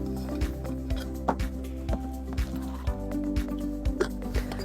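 Tomatoes get a quick rinse in Kangen alkaline water, with repeated soft wet squishes and drips as the fruit is rubbed and turned. The handling is steady and close by.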